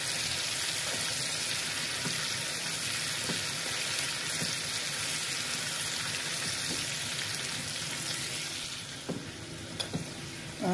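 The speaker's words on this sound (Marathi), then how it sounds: "डाळ आणि दाणे आता फोडणीमध्ये जरा व्यवस्थित तळून घेऊया." Dal and soaked peanuts fry in tempering oil, a continuous dense sizzle that holds steady for about ten seconds before easing off, with a few light clinks of stirring near the end.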